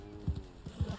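Rhythmic thudding hoofbeats of a horse galloping in the video game Red Dead Online, two quick double-beat strikes, moderately close and fairly quiet.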